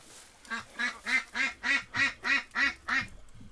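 A duck quacks eight times in an evenly spaced, steady series of loud, close, nasal calls near a swamp, each quack about a third of a second apart, with no talk over them.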